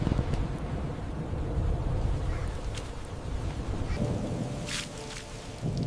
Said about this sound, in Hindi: अरे ये तो बारिश तेज होने लगी